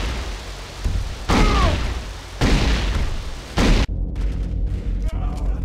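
A plasma rifle fires in a video game in loud, sustained booming bursts, a few seconds each, separated by brief gaps and followed by quieter crackling.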